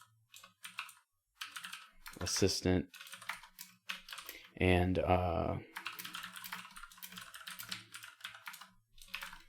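Computer keyboard typing during a coding session, bursts of close clicky keystrokes in an uneven rhythm, with a person talking over parts of it and brief pauses between runs of typing.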